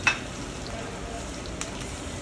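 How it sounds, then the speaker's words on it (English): Shallots fry in brown butter in a pan, giving a steady, soft sizzle with faint crackles and a small clatter at the start, close by and fairly quiet. "So I've got some shallots. We're gonna let those fry up a little bit."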